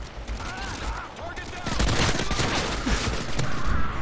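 Rapid akimbo pistol fire from Modern Warfare 2 team deathmatch crackles in dense bursts, getting louder midway, with game effects and faint voices mixed underneath.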